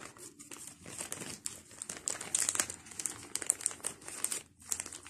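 A blue plastic bag holding crochet rings crinkles and rustles steadily up close, a continuous busy crackle with small sharp ticks throughout and no talk.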